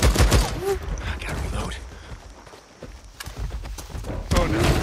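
Gunfire in the video game Days Gone comes as scattered bursts of shots mixed with mechanical clatter, alongside a voice talking close by.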